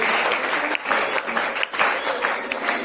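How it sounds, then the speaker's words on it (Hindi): Applause from a meeting audience welcoming first-time guests, dense clapping that fills the room steadily and close, with a little crowd noise under it. "अरे वाह, जबरदस्त तालियां सभी न्यू गेस्ट के लिए।"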